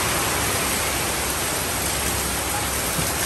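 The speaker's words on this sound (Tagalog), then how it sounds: "Napakalakas ng ulan." Heavy rain pours steadily and loudly, a dense, unbroken wash of drumming water that fills the whole stretch with no voices over it.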